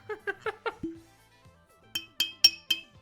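A fake glass object is tapped on metal: four dull, muffled knocks, a thud, then four brighter clinking taps with a ringing tone, all close and isolated with no talk.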